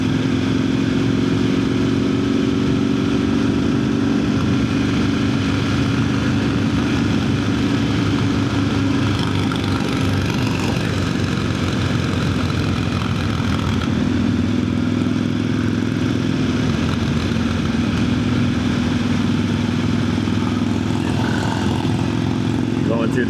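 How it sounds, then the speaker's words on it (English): A 1000cc, 168-horsepower motorcycle of about 420 pounds wet, ridden along a city road, gives a steady, loud engine drone that rises and falls slightly with throttle for the whole stretch, with a rider's voice heard over it. "168 horsepower in a bike that weighs like 420 pounds wet."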